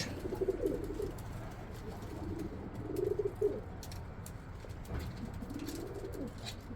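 Soft, low cooing from a male pigeon, a few repeated phrases at moderate distance over a steady background hum.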